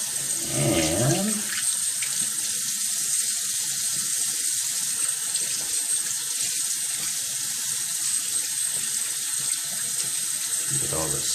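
Tap water pours steadily into a sink to rinse off soap, a continuous hiss close by, with a voice briefly heard at the start and end.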